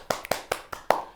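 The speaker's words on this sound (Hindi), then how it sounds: "कुछ लोगों की तालियां।" A few hands clapping slowly, about four distinct claps in a short, sparse burst, close and fairly faint with no voices.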